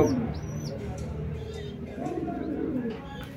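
Low, soft coos from Teddy pigeons repeat over a murmur of background noise, with a few faint higher bird chirps.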